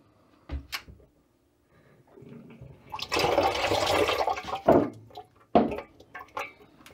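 Water drains out of the supply lines of a bathroom sink faucet during a faucet replacement, starting with a few short knocks and drips before a steady gurgling rush that tapers off into splutters.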